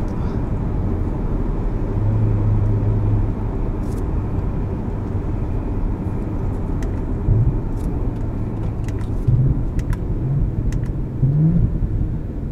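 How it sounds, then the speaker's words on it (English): Engine of a 2018 Audi S4 Premium Plus heard from inside the cabin while driving, a steady low rumble with rising revs and short crackling exhaust burbles scattered through the latter half. "On downshifts and when lifting off, you'll get a good amount of burbles from the exhaust"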